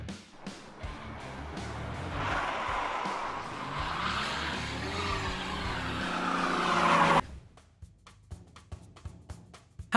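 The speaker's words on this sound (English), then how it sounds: "To drive in such slippery weather, it is absolutely not necessary for the wheels to spin." Car wheels spin on a slippery road as the engine revs hard, a loud, sustained whine lasting about five seconds before cutting off abruptly, leaving a few faint knocks and clicks.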